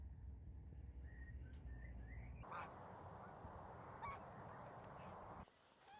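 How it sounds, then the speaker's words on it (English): Canada geese honk faintly in the distance, a few short calls over a quiet, low background hum outdoors in the Fochteloërveen, Netherlands. "We also heard some Canada geese,"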